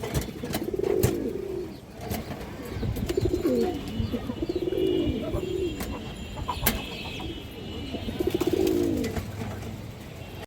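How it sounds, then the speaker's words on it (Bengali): Kaldum pigeons cooing in repeated soft, throaty rolling phrases, close by and fairly steady throughout, with faint background noise and occasional clicks. "দেখেন নটটা মাসাল্লাহ খুব সুন্দর একটা কবুতর"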